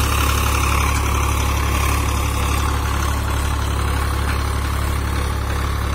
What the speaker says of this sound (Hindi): खिंचता हुआ चला जा रहा ट्रैक्टर